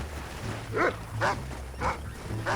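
A dog in the western game Red Dead Redemption barks four times at an even pace, each bark clear and moderately loud over a low steady background hum.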